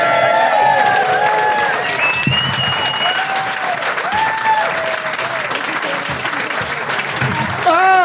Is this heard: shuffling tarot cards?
no